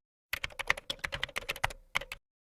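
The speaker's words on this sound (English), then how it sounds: "I'm gonna leave my comment here, and let's say I'm gonna type" Fast typing on a computer keyboard, a close, quick run of crisp key clicks lasting about two seconds.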